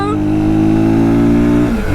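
An Orcal SK01 125cc motorcycle from 2021 revs hard and accelerates, its loud, close engine note rising steadily and holding before a brief drop at a gear change.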